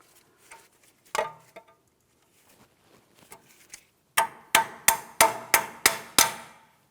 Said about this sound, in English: make sure you peen it over so there's no way the outer tie rod end can loosen up on you